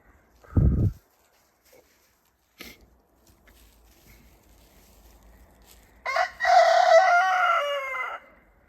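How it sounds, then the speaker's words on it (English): A lone chicken wandering outdoors on a sunny day gives a short cluck early on, followed later by a loud, drawn-out rooster crow standing alone against quiet surroundings. "We have one lone chicken down there, wandering around."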